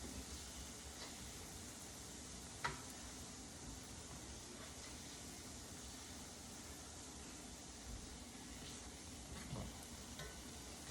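Plantains frying gently in butter, a faint, even sizzle that hisses on steadily at close range with one brief crackle partway through.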